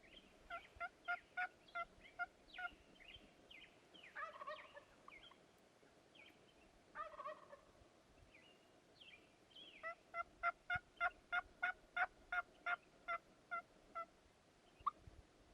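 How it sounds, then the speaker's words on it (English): Wild turkeys gobble on the roost during a spring hunt in Mexico, distant rattling gobbles arriving in repeated bursts, with a long run of rhythmic calls near the end over quiet background. "these birds are gobbling hard on the roost"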